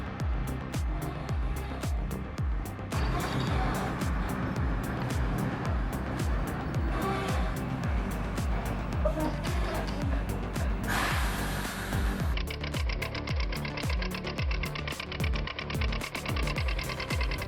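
A 1959 BM Victor forwarder logging machine runs with a rough, rhythmic engine chug of rapid steady pulses, loud and close throughout, with a brief hissing burst partway through.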